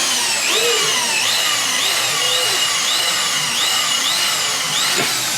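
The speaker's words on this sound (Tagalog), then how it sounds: "barena na yung ginagamit na pang butas ni Sir Maiko" An electric drill whines steadily up close, boring a hole for a Honda ADV 160 part, its pitch repeatedly dipping and rising as the bit bites into material and frees up, with a brief clunk near the end.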